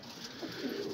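Pigeons in a loft coo softly and close by, a short low rolling call over a faint background hum.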